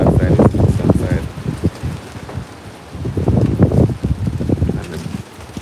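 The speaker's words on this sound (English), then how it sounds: "And the breeze and the rain is coming this side, westly, west, northwest." Wind and rain buffet the microphone during Hurricane Melissa in Spanish Town, Jamaica, a loud, gusty roar with surging bursts of broadband noise throughout, and people talking faintly in the background.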